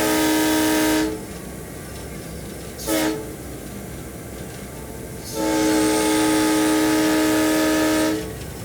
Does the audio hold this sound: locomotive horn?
yes